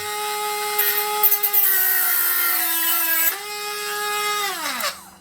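Wen 23072 cordless rotary tool running at a loud, steady high-pitched whine, dipping briefly under load, then winding down as it spins to a stop.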